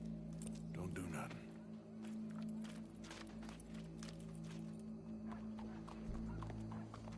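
Horse hooves clip-clop in a steady walking rhythm in Red Dead Redemption 2, with occasional sharper hoof strikes over a low ambient drone and music.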